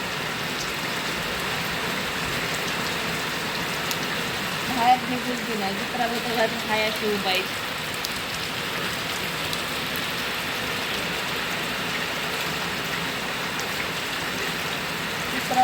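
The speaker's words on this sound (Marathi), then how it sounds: "पाऊस चालू आहे दोन दिवस झाले" Steady rain hisses throughout, with a person speaking briefly midway over the constant patter.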